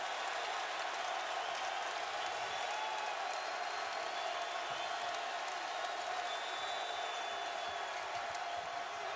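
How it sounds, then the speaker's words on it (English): A basketball crowd cheers and roars in a Knoxville arena during a Tennessee versus Kentucky game, a dense sustained wall of noise that stays loud throughout. "The crowd is up in Knoxville."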